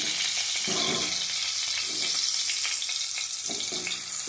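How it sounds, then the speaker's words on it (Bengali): Dried chili and nigella seeds spit and crackle as they hit hot oil for tempering a bean dish, a steady close sizzle with faint stirring noises and no talk. "ফোড়ন দেবো, লঙ্কা আর কালো জিরে।"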